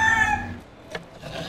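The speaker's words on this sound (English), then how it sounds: "those famous Ybor chickens." A rooster crows in Ybor City, Tampa, home of its famous free-roaming chickens, with a loud drawn-out call at the start that fades, then a brief squawk later over faint street background.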